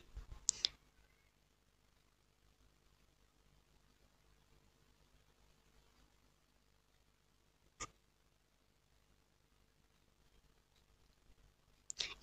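A computer mouse gives a few isolated clicks, sharp and brief, spaced far apart by long near-silent stretches, with no voice present.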